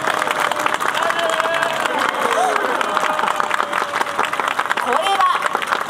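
A stadium crowd at a 2018 Hiroshima Carp versus Chiba Lotte Marines baseball game claps for a mascot's dance in a dance battle, a choppy, rippling wave of applause mixed with scattered cheers and voices.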